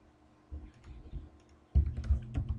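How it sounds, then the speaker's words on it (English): Typing on a computer keyboard while working in AutoCAD, a few soft scattered key clicks, then a quicker cluster of closer, louder presses and a thumped key, with no talking. "We're going to type O, enter."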